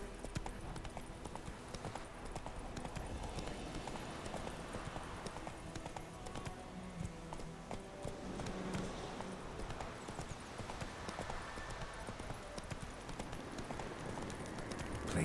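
Roach the horse trotting in The Witcher 3: Wild Hunt, with a continuous quick clip-clop of hooves on ground across the whole stretch, steady and fairly close, under faint game ambience.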